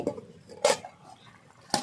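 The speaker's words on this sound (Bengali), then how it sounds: "ঢাকনা আমি তুলে দিচ্ছি" Metal lid on a cooking pot of fish and cabbage curry clinking, two or three short sharp knocks spaced apart against a quiet kitchen background.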